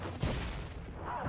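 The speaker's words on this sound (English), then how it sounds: "Grenade!" A grenade blast and gunfire in the video game Wanted: Dead: a loud, dense burst of explosive noise that rolls on in a steady, cluttered roar of combat.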